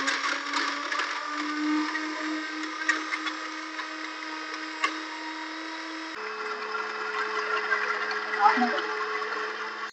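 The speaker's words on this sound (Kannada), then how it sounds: "ಈಗ ನುಣ್ಣಗೆ ರುಬ್ಕೊಳ್ಳೋಣ." A kitchen mixer grinder whirs steadily, grinding garam masala of cinnamon, cloves and cardamom finely, a continuous high motor drone with a pitch shift midway and faint rattling of the spices.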